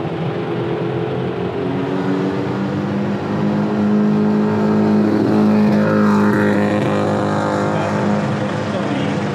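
Several cars idle and rev at a busy Sunday morning car meet at Daikoku parking area, a steady engine rumble and whir with a swelling rev midway. Background chatter from the crowd sits under the engines.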